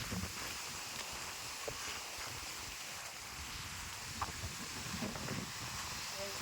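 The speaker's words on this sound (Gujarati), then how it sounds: "ધાબા ઉપર આવ્યા ને પવન સુસવાટા બોલાવે" Steady rushing wind buffets the microphone outdoors on a rooftop, a constant broadband roar with occasional faint rustles and knocks.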